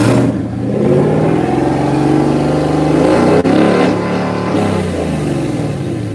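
A twin-turbo 2019 Mustang GT V8 engine revs lightly and repeatedly on first startup, deep rumbling rising and falling in steady throttle blips, loud and close with no talking.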